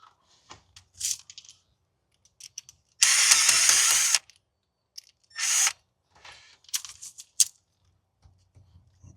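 A handheld power driver unscrews the strain relief on an RV shore power plug, whirring in short bursts with one longer run, with clicks and handling noises between.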